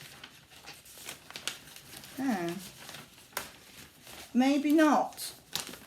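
Packaging crinkles and rustles in short bursts as someone searches for a pattern picture, close to the microphone and interleaved with brief speech.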